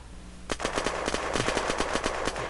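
A rapid burst of automatic gunfire in the game Unturned starts suddenly and rattles on continuously, loud and close, with quick evenly spaced shots.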